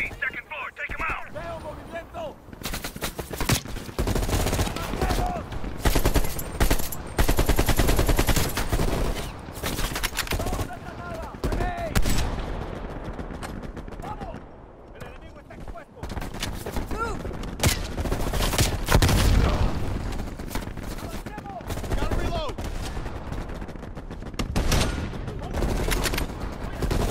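Dense machine gun fire and scattered gunshots in the video game Call of Duty Cold War, rapid bursts and volleys that are loud and continuous, with voices talking over the shooting.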